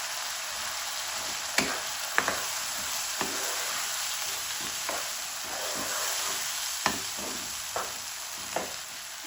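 Green peas and chopped green chili fry in a pan in a home kitchen, giving a steady, bright sizzle. Occasional scrapes and clinks of stirring punctuate it every second or so, with no talking.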